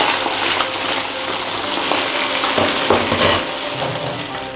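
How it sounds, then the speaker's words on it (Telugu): Chicken pieces frying in hot oil for chilli chicken, a steady loud sizzle and bubbling with occasional stirring scrapes, close and continuous with no talking. "మిగిలినవి ఏవైతే పీసెస్ ఉంటాయో వాటిని కూడా అలాగే ఫ్రై చేసుకోండి."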